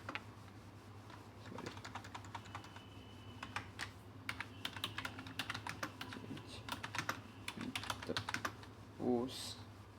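Rapid, uneven keystrokes on a computer keyboard as a prompt is typed, close and fairly quiet, with short bursts and pauses over a steady low hum.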